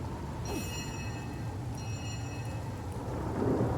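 Rain falls steadily in the video game Divinity: Original Sin, a continuous broadband hiss of moderate level with brief high tonal game chimes over it, no talking.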